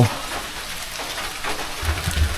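Rain falling steadily in a deep forest, a broad soft hiss of drops on leaves at moderate level, with a few low rumbles toward the end.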